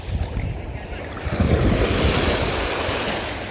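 Wind gusts buffet the microphone over the rush of surf, swelling louder midway and staying strong.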